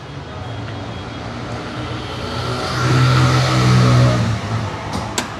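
Engine of a used Toyota Noah Esquire with an 1800cc motor running at a car lot, a steady droning idle that swells louder midway as the revs rise, then settles back.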